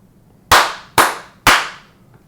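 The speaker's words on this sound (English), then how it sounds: "That was 4 claps." Sharp, loud hand claps ring out close by in an even rhythm, three strong ones about half a second apart, followed by a much fainter fourth.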